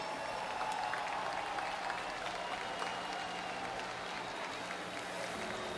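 Festival audience at a rock concert at the Festival de Inverno de Garanhuns applauding, dense sustained clapping and crowd noise from a large outdoor crowd, steady and distant-sounding with no clear speech.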